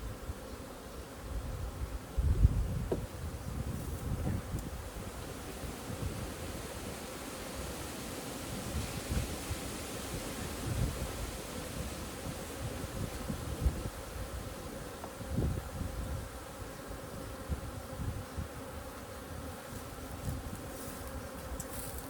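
Honey bees buzz steadily in and around a hive, a dense, continuous hum close by with no speech.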